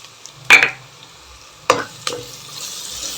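Ginger paste and pepper powder fry in a pot of khichdi, a soft background sizzle broken by three sharp stirring scrapes.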